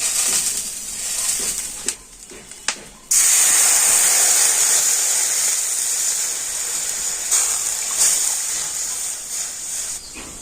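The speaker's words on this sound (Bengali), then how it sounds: "কড়াতে আমি একটা বাটি মেপে দিয়ে দেবো দেড় বাটি জল" Water poured into a hot wok to make sugar syrup for sweet-potato pantua sweets sets off a loud, steady steam hiss that surges suddenly and then holds for several seconds, after a few short clatters.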